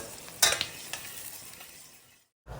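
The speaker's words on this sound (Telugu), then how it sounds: "ముక్కలు ఎర్రగా అయ్యే వరకు మధ్య మధ్యలో కలుపుతూ మాడిపోకుండా ఎర్రగా అయ్యే వరకు వేయించుకోవాలి" Onion pieces fry in a pan while being stirred, a soft sizzle broken by a few sharp scraping clinks of the spoon, ending in a brief silence before the sizzle returns.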